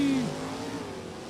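Pro stock drag racers, a Gen 4 Camaro and a 400 cubic inch four-speed Firebird, roar loudly at Lebanon Valley Dragway, with a squealing, revving burst that fades into a sustained engine rush.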